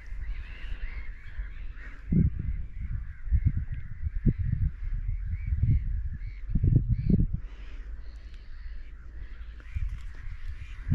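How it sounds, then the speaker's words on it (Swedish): Crows cawing outdoors along a sea-trout fishing shore, a scattering of harsh calls over steady low wind or water noise, fairly near and irregular. "Fåglarna också tror jag längtar lite."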